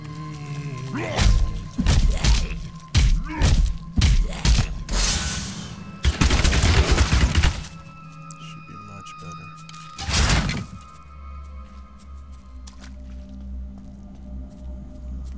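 Rapid-fire crossbow attacks in Diablo 3 land as a burst of thumping, shattering impacts, clustered in quick volleys over the first half then thinning out, with a voice talking over them.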